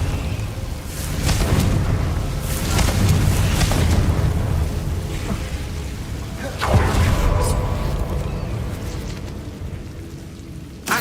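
Spell blasts from Confringo in the video game Hogwarts Legacy, a run of deep booming explosions with rumbling, crackling tails, repeated over the span with a sharp burst near the end.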